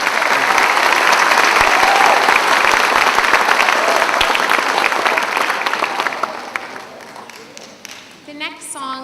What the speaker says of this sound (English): If we can give her a round of applause, please.